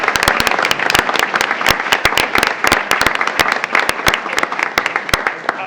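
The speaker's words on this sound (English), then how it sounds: "so a round of applause for them" Applause from the audience at a school board meeting, honoring student athletes and their families. It sounds like dense, steady clapping with sharp individual claps standing out throughout, fairly close and loud, with no talking over it.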